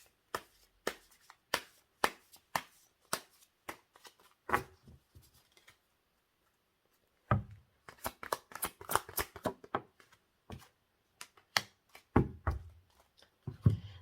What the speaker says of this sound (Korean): 추가 카드 잠깐 뽑을게요.